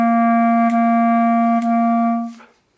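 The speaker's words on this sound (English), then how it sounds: "If I play that on my clarinet, it sounds something like this." A clarinet holds one steady note in a short rhythm, three soft rearticulations about a second apart, close and clear, before fading out at the end.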